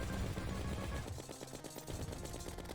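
Rapid video-game gunfire from Luminite bullets in modded Terraria (Elements Awoken), a dense continuous rattle of shots with steady loudness over a game soundtrack.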